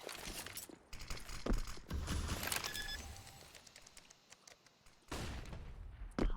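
Bursts of gunfire in Counter-Strike on the Nuke map during a competitive esports match, several sharp shots and rapid volleys scattered across the stretch amid game ambience.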